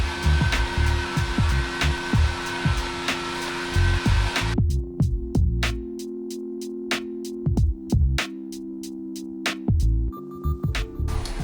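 Bauer heat gun from Harbor Freight, run at a medium setting, warming KilMat sound deadener inside a Dodge Promaster van; a steady blower hiss persists throughout, broken by repeated sharp tapping and crinkling sounds.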